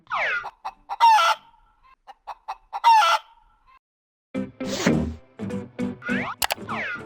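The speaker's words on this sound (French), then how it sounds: "Écoutons le son que fait le poussin." A chick peeps in quick, high chirps that come in short clusters separated by brief gaps, then a denser run of clucking and chirping fowl sounds follows, close and clear with no talking.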